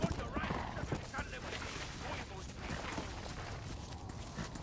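Horse hooves clip-clop steadily across the ground in the western video game Red Dead Redemption: Undead Nightmare, a brisk even gait mixed with ambient game sound and a snort, under ongoing talk.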